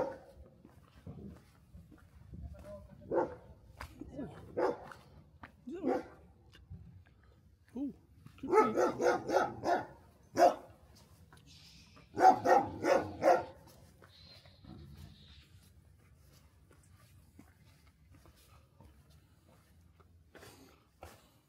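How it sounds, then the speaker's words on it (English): A big dog barking outdoors in Madeira, on the route from Monte to a tea house, several loud barks in bursts separated by quieter stretches, with people talking nearby. "Big dog."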